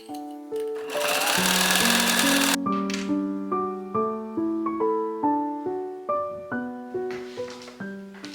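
A sewing machine runs in a steady burst, stitching a triple-folded edge on a dress from the waist down to the opening stop, with music playing alongside and continuing after the stitching stops.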